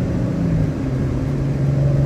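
A Nissan 350Z / Infiniti G35 drives on the freeway, a steady low engine and road rumble heard from inside the car with no talking.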